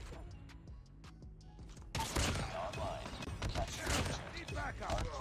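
Sniper rifle shots from a Damascus DLQ in Call of Duty Mobile, sharp reports ringing out amid busy game noise, some quiet ticks first, then a louder stretch with someone talking throughout.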